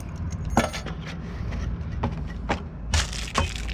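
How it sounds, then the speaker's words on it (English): Keys from a new digital deadbolt box jangle in several brief metallic rattles spread over a few seconds, close and fairly quiet against a soft background. "We do get some keys."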